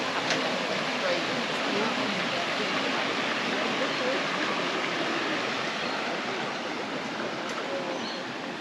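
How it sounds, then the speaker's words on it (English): Small waterfalls at Edith Falls pour in a steady, even rush of water, with no break or change from start to end, close by and fairly loud. "We might get down there in those little waterfalls."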